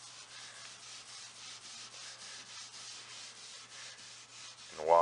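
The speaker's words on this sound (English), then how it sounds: "rub it and continue to go through the lacquer finish" A steel wool pad rubs lacquer finish off the wooden top of a 1964 Lane Acclaim buffet, giving a steady, close, rhythmic scratchy scrubbing in regular strokes, with a brief bump of handling noise at the very end.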